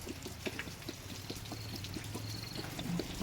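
Dirty coolant water drains from the radiator of a Mahindra 575 tractor, a steady close-up pouring trickle that runs on without pause and is heard alone.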